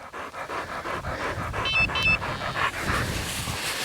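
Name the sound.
hunting dog panting after retrieving pheasant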